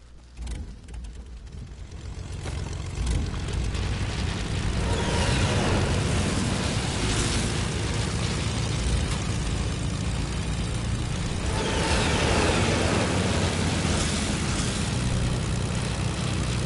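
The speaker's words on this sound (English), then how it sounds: "we're gonna take our own plane" A propeller plane's engine drones in Fortnite, starting quieter and then swelling into a loud, steady hum with a gritty buzz that holds through to the end, with no voices over it.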